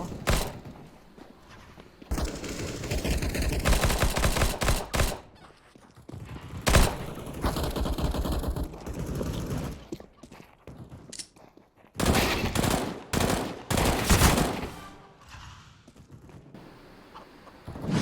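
Gunshots from a nearby shooter in a video game, heard through Corsair HS70 Bluetooth headphones with virtual surround, come as loud, close bursts of rapid fire separated by quieter gaps.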